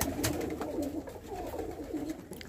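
Homing pigeons coo softly in low, rolling murmurs while feeding, a few overlapping calls close by against quiet background rustle.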